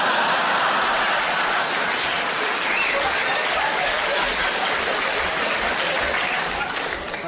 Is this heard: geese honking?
no